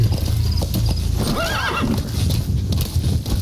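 Horse sounds from the video game Metal Gear Solid V, with steady hoofbeats and a clear whinny partway through, loud and close over a rumbling background.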